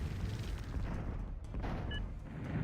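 Magpie bombers drop bombs in the strategy video game Zero-K, producing a continuous low rumble of distant booms and blasts, moderately quiet, with no clear separate hits.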